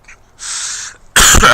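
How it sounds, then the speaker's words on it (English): A single harsh cough bursts out near the end, loud and close, after a short hissy breath. "Excuse my cough"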